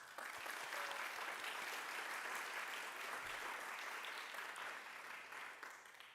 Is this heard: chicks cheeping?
no